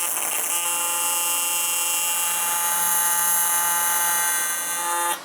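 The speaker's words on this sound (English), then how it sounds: "we're gonna strike an arc and we're gonna see if it takes a weld or if it just starts blowing apart." Arc welding on a cast aluminum turbo part for a Camaro SS, a steady, loud electric buzz with a bright, high-pitched whine that holds evenly for several seconds, then stops abruptly.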